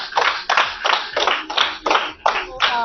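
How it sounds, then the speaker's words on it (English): A small group claps in a few distinct bursts during a classroom spelling activity, each burst sharp and close, with short pauses between them. "A round of applause."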